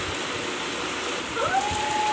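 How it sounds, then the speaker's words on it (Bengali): Heavy rain pours during a storm, recorded from a window overlooking flowering plants, a steady dense hiss of falling water; a brief tonal whine rises near the end over the downpour. "কি বৃষ্টি হচ্ছে দেখুন"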